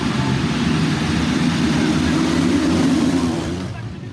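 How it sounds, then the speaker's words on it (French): Massed motocross motorcycle engines roar steadily at the starting line of a French championship round in Bitche, a loud, continuous drone that fades slightly at the end, with talk underneath. "Avec le vrombissement de tous ces moteurs, on ne s'entend même plus penser."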